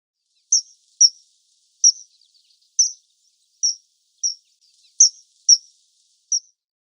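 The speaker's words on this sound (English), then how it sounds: "kingfisher" Kingfisher calling alone: about nine short, high, piercing chirps at irregular intervals, clear and close against total silence.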